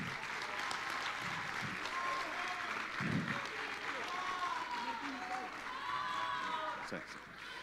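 A room of people gives a steady round of applause for a music group, dense clapping continuing for several seconds at moderate distance, with a few voices mixed in before it thins out.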